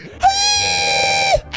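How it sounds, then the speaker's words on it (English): A soldier lets out a long, sustained war-face scream, loud and strained with a steady pitch, cutting in sharply and holding for about a second before breaking off. "He literally poured his heart and soul into that scream"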